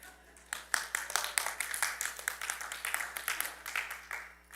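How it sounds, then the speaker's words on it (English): Audience at a Sunday church service breaking into clapping, a close, lively run of many individual claps that starts abruptly and continues with uneven rhythm for several seconds. "You can clap."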